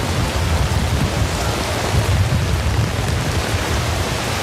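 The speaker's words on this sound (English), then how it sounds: "Is the rain blowing into the stage? No. No. The wind's picking up outside" Steady heavy rain with a low rumbling roar, dense and continuous throughout, like a downpour driven by wind.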